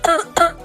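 A woman coughs after drinking a cold drink in chilly weather, two sharp close coughs in quick succession.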